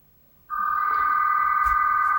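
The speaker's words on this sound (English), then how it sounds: "Can somebody shut off the phone?" A telephone starts ringing with a sudden, loud, steady electronic tone that holds without pause, close by and with no talk over it.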